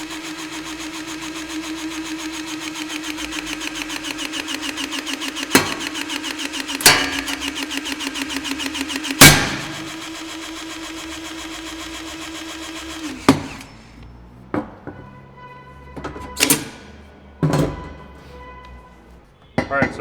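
A TrueShear power shear cuts 18 gauge, 6-inch wide steel slotted track with a steady whirring motor hum and rapid chattering. Sharp metallic snaps come at intervals, then the motor stops and a few separate clanks follow.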